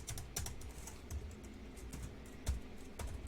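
Typing on a computer keyboard fills the clip with steady, close key clatter, many quick irregular taps with no talking.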